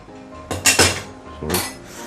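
A metal kitchen knife clinks against other utensils as it is picked up and swapped while cutting tomato, giving a few bright, close taps and a short rattle.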